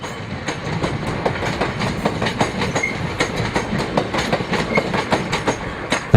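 A Class 465 third-rail electric multiple unit train rolls past close by, with a steady rumble and a rapid, rhythmic clickety-clack of wheels over rail joints throughout, no voices.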